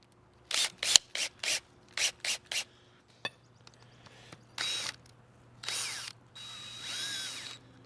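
A series of short, sharp drill bursts removing a pool mesh safety cover anchor, then a few longer whirring runs with pauses between, close and fairly loud.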